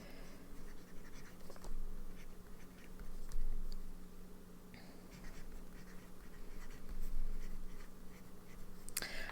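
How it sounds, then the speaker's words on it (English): A medium-nib fountain pen writing on paper gives a faint, steady scratching with soft irregular strokes, close up over a low background hum, and no talking. "it's a medium nib, but it's writing pretty finely"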